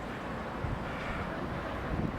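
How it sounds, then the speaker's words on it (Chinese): Strong, cold wind gusts steadily across an open high point near a town hall in Magdeburg, Germany, roaring as a dense, continuous rush into the microphone. "一上来以后风很大"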